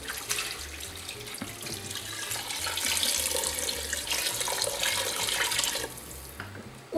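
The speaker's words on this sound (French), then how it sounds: "On va couvrir à hauteur avec de l'eau." Water pours steadily into a cooking pot over meat and its juices for several seconds, a continuous splashing stream that ends abruptly.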